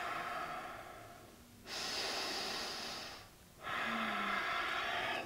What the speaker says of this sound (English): And exhale, switching hands.